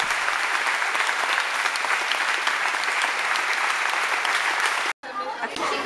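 Enthusiastic audience applause after a Christmas school show, a dense, steady wash of clapping for about five seconds that cuts off briefly before faint chatter and movement follow.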